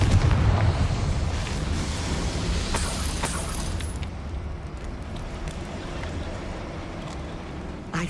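A Confringo explosive spell goes off in Hogwarts Legacy, a loud roaring burst that decays into a long rumbling wash with crackling debris, with no speech over it.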